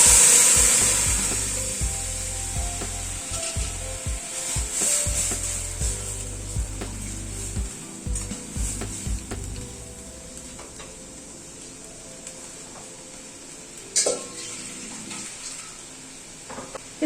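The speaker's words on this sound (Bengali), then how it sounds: "এবার ডালটা ঢেলে দিচ্ছি।" Mung dal tipped into a hot pan of oil with turmeric for Gandharaj mung dal, giving a loud initial hiss and sizzle that settles into a softer, steady frying crackle with occasional clinks of a spoon.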